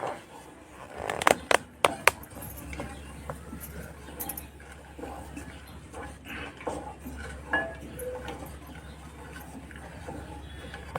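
Ragi mixture in a pan on a gas flame, stirred with a spoon scraping and clinking against the pan edges, a few sharp knocks early, then softer rhythmic scraping over a low hum.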